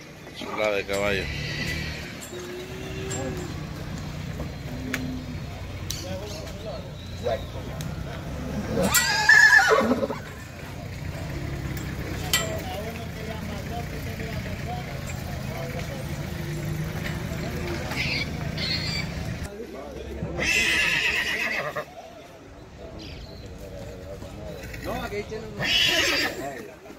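Horses at an outdoor gathering in El Tránsito, San Miguel, El Salvador let out several whinnies spread across a long stretch, mixed with distant voices, hoof clops and passing vehicle noise.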